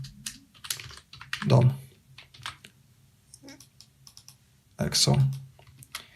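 Typing on a computer keyboard while writing React Router code, with quick scattered key clicks heard between and under a man's close speech.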